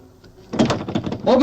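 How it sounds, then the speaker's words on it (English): A wooden door in a period drama is pounded and forced, with a few heavy thuds and rattles close by, and shouting voices mixed in. "Open up this door! Open up!"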